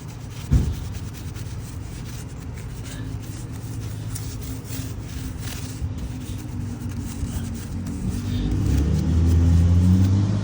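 A small brush scrubs a car wheel up close with continuous rough rubbing strokes. A low rumble swells toward the end.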